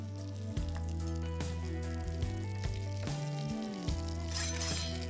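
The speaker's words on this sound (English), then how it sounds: "Keep the fire slow so that the breadcrumbs get nice and brown and don't burn." Breadcrumbs frying in a pan over slow heat, a steady soft sizzle with occasional light pops and stirring clicks, close and quiet, alone under a sustained background hum.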